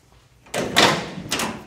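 Driver side door of a Camaro with freshly reinstalled lock linkage, latching shut in a quick metallic clunk followed by a second, lighter click a moment later, close and fairly loud.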